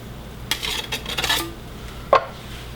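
A cake scraper drawn across buttercream on a cake, giving a brief run of soft scraping and a sharp metallic tap, close by in a quiet room.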